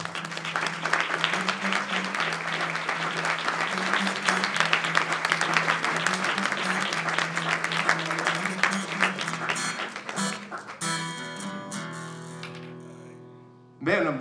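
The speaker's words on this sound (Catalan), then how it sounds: "Un fort aplaudiment, sisplau, per Joan Grassa" Sustained applause for authors at a Catalan literary gathering in a bar, steady clapping over a low hum for about ten seconds before it thins out and gives way to plucked musical notes.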